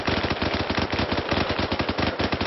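Rapid, sustained automatic gunfire from a military video game, loud and close, a dense unbroken burst of shots with no talk.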